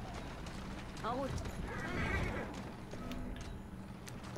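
A horse in the London streets of Assassin's Creed Syndicate clip-clops and whinnies briefly amid game noise, with someone talking over it.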